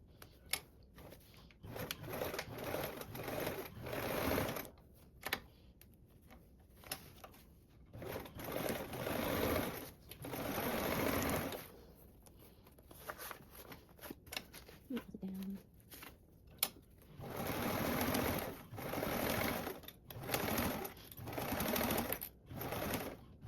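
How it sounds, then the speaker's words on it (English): A sewing machine stitches a tote bag in repeated bursts of rapid, close, rattling needle action, separated by short pauses, with some handling sounds in between. "just before we start sewing"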